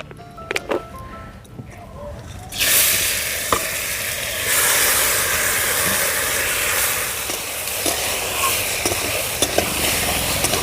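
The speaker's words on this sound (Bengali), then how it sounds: "আমি ডালটা প্রথমে ভেজে নেব তা আমি সামান্য পরিমাণে সর্ষের তেল দিয়ে দিচ্ছি কড়াইতে" Mung dal frying in mustard oil in a wok, a sudden loud, bright sizzle bursting in a few seconds in and hissing steadily afterward, with a few stirring clicks and knocks.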